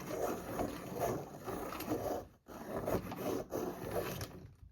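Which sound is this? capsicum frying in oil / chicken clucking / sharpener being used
sharpener being used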